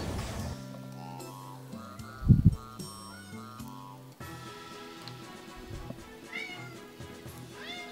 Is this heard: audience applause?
no